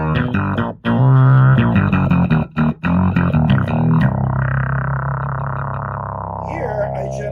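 Electric guitar played through a distortion effect, chunky chords with abrupt stops and short gaps, then a long sustained ringing chord that fades, loud and alone.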